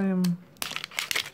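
A creatine tub's seal is torn open with a brief crinkling rip, followed by crackly rustling of the foil and packaging at close range after a short voiced sound at the start.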